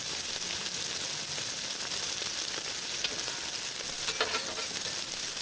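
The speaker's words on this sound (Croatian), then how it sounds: "Slušaj kako cvrči." Marinated chicken sizzling on a grill, a constant hissing crackle of fat and marinade on hot metal with scattered sharper pops, close and steady throughout.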